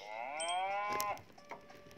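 A cow lows once in a loud, drawn-out moo that lasts about a second, then falls away to quiet background with a few faint clicks and a brief thin tone.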